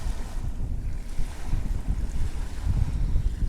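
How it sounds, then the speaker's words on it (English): Water lapping against the shore at Little Bay in Rockport, Texas, a low, irregular sloshing and rumbling close by, mixed with gusty wind buffeting the microphone, steady for a few seconds with no voices. "I'll be able to enjoy the sounds of the water."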